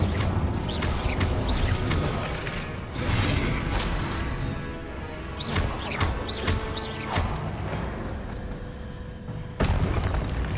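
Fire spell effects in Hogwarts Legacy combat: a series of heavy booming bursts and crashes spaced a couple of seconds apart, with whooshes between them, loud and close, with no talking.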